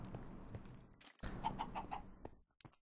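Minecraft chicken clucking in a short burst of a few quick pitched clucks amid game sounds, fairly close and moderately loud.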